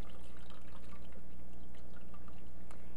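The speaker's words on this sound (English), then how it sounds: "now I'm going to add hot water, and that's going to rinse off the curds" Hot water is poured over fresh cheese curds to rinse off the whey, a steady close splashing and dripping trickle that runs throughout with no talk.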